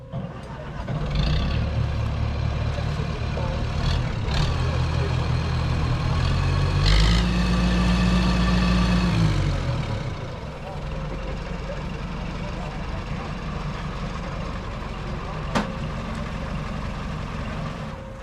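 At a farm auction, a freshly started engine with a completely overhauled motor idles with a steady, fairly loud low rumble that eases slightly partway through, while people talk nearby.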